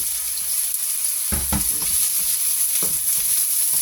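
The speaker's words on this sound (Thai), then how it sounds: "แล้วก็จะเอา กระเทียมกับนี่เจียวก่อน" Garlic and shallots frying in hot oil in a pan, giving a steady close hiss with a few dull knocks and clatters of a utensil partway through and no talking.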